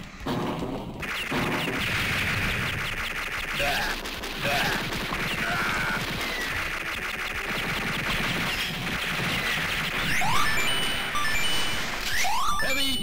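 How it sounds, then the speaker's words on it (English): Rapid gunfire from the heavy machine gun in the arcade game Metal Slug 3, dense and continuous amid loud crashes, explosions and game music, with a voice calling out over the action. "Heavy machine gun!"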